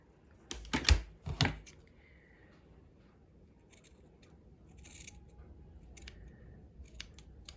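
Scissors cut fabric for a handmade doll outfit, with a couple of crisp close snips near the start followed by faint handling clicks and rustles over quiet room noise.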